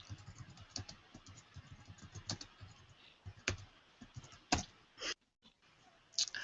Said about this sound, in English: looks like she's typing furiously